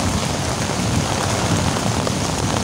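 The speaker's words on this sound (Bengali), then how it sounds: "অনেক বৃষ্টি পড়ছে এদিকে" Heavy rain pours down on a village in Bengal, a dense, even roar of drops hitting surfaces that holds constant and fills the whole clip with no voices.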